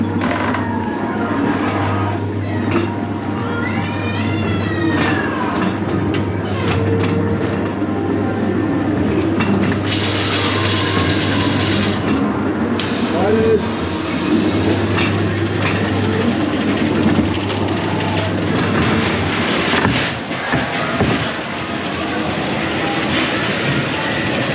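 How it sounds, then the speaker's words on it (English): The Blackpool Pleasure Beach ghost train rolls along its rails with loud, close clickety-clack and rumbling, a steady hum, brief squealing wheels and a burst of harsher noise partway through, with no talk. "Great ghost train."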